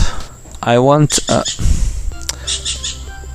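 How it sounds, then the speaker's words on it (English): Bird chirps and squawks recorded indoors during a podcast, a warbling call followed by a few short chirps, loud and close, with a brief human sound in between. "the bird, stop singing"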